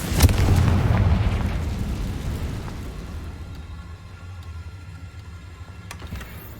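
A Confringo blasting curse detonates in the video game Hogwarts Legacy, a loud heavy boom with a rumbling low roar that slowly fades over several seconds, with a few faint crackles near the end.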